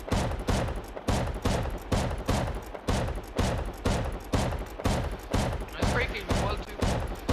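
A shotgun trap in a video game fires over and over in a steady rhythm, about two heavy booming blasts per second, loud and close with no pauses between them.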